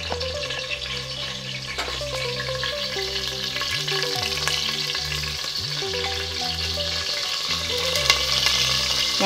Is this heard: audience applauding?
no